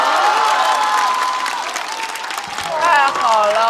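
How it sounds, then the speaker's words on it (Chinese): An audience at a stand-up comedy show applauds with dense, loud, steady clapping that swells near the end, with voices mixed in over it. "掌声"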